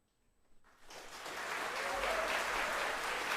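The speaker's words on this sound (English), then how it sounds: "let's have one more round of applause for our amazing musicians" Audience applause for musicians at a concert intermission. It starts near silence, swells within a second into dense, sustained clapping and keeps rising to a steady loud level.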